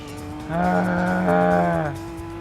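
A Nissan March Super Turbo engine in the racing game Gran Turismo 2 gives a brief, steady droning tone of about a second and a half, rising over a low background hum before dropping away.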